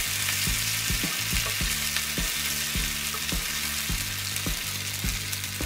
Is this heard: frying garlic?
yes